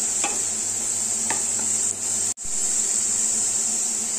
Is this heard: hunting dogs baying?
no